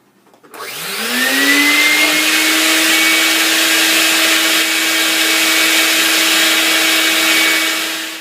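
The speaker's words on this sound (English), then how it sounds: "I'm going to turn the vacuum on, and we're going to see if it'll hold this." A shop vacuum on a homemade vacuum forming machine starts up, its motor whining up in pitch and then holding a loud, steady drone with no talk over it.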